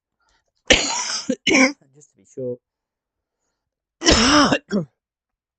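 Close, harsh coughing in two bursts separated by a pause, with a few quiet spoken words in between.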